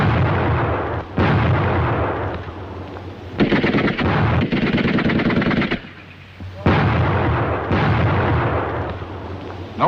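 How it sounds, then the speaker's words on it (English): A World War II battle charge with grenade blasts and gunfire, loud booming bursts and rattling shots arriving in heavy waves with short lulls between them. "The grenades open up the charge."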